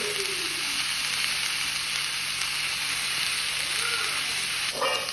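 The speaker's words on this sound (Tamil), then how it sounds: "இப்போ நாங்கள் இதில் கருவேப்பு நிலையும் பச்சை மிளகாயும் போட்டுக்கொள்கிறோம்" Curry leaves and green chillies frying in hot oil in a pan with onions, a constant close sizzling hiss with faint crackles and a short clatter near the end.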